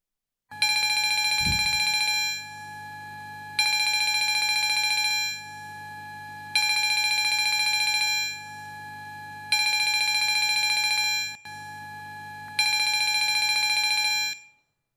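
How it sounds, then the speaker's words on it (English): Electric division bells ring in a youth parliament chamber in Cairns, five long steady bursts of loud metallic ringing separated by short pauses. "Ring the bells."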